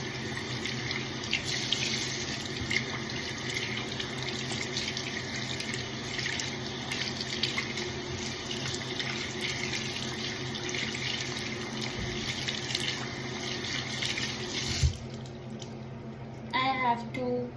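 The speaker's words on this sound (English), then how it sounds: "I have to wash my hands with warm water." Warm tap water runs steadily into a sink as hands are washed beneath it, a continuous close splashing hiss lasting throughout, with a voice briefly near the end.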